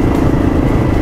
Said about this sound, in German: Aber mit dem Motorrad